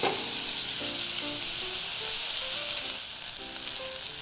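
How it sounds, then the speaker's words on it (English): Chopped red onion and four cloves of garlic softening slowly in a pan over low heat, giving a continuous gentle sizzle and hiss close by, fairly quiet and even, with no voices. "In goes a medium-sized red onion and 4 cloves of chopped garlic. And I'm going to just cook these nice and slowly for about 5 minutes"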